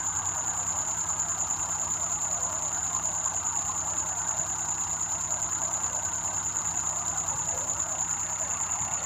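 A Suzuki Carry Bolan van engine running steadily at high RPM with low battery voltage, a constant drone and a high, piercing whine over it, loud and continuous without pause.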